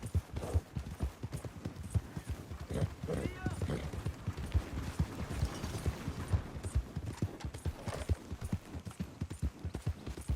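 Steady clip-clop of horse hooves trotting throughout in Red Dead Redemption 2, a busy rhythmic patter with voices talking over it.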